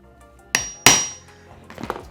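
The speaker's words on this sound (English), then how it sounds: "Finish that off with a punch." Two sharp hammer strikes drive a punch into wood to start a screw hole for hanging a shelf, close and ringing briefly, followed by a few softer knocks and rustles with no talking.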